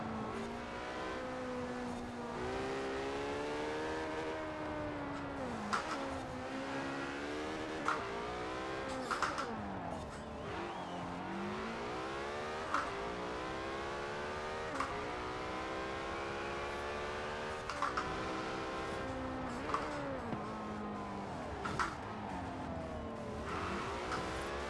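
Race cars in Forza Horizon 4 roar through continuous high-revving engine notes that climb and drop with gear shifts, with occasional tire squeal and skids, loud and constant throughout with no talking.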